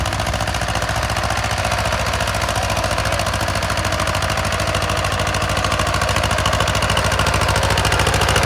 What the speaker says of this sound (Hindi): अभी ट्रैक्टर में बहुत दम है